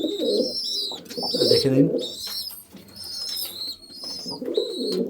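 Pigeons in a home loft, including a pair of Fulshira pigeons, a white hen and a male, giving repeated low throaty coos close by while someone talks over them.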